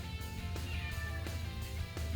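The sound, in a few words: cat meowing behind a door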